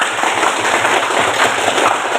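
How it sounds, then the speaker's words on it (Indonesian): Dense, steady applause from a crowd at a teacher-training practicum event in Merauke, Indonesia, many hands clapping continuously at a fairly loud, even level with no talking. "Boleh tepuk tangan dulu buat kita semua. Kasih kencang tepuk tangannya."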